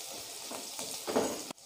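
Chopped garlic and onion frying in hot oil for an Assamese fish curry, giving a steady close sizzle with small crackling surges that ends abruptly.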